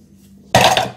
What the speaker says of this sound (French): Elle s'est échappée de mes mains, la banane.